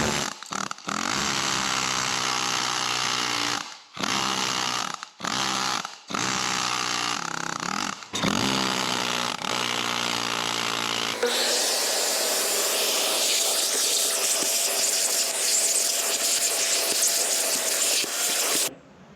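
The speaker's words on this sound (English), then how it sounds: "this needle gun works awesome" A pneumatic needle gun hammers rust off a Toyota Tundra frame in harsh, hissing rattling bursts with short pauses, then settles into one long continuous run.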